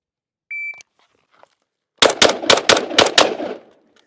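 After a short electronic timer beep, a Steyr AUG rifle fires a rapid string of six loud, close shots during an El Presidente shooting drill at a range, then falls silent.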